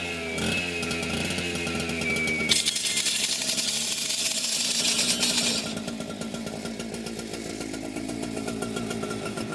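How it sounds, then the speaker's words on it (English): A firefighter's power saw cuts into the barrel of a slide bolt lock during a forcible entry drill, a loud, continuous, gritty snarl that brightens and intensifies partway through, then settles back to a steady grinding roar. "We're going to have a firefighter just come up and demonstrate where to cut with the saw."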